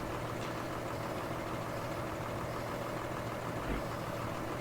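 A Deutz tractor engine idles in Farming Simulator 19, a steady low, even drone held at a constant level throughout, with no speech over it.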